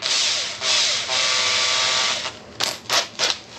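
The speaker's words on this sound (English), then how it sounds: "let's drill through this dime" A battery drill bores into a dime with a long, high, grinding whine that pauses and resumes, then ends in a few short bursts, close up and without talk.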